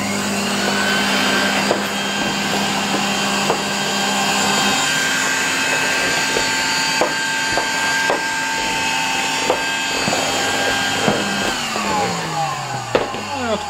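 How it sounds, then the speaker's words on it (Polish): A 1973 Zelmer 01A vacuum cleaner runs loud and steady, sucking up polystyrene balls, its droning whine broken by small clicks and rattles as the beads are pulled in. "Odkurzacz wszystkie te kulki bardzo ładnie poodkurzał"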